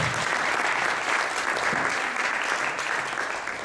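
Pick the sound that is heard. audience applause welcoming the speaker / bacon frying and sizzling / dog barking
audience applause welcoming the speaker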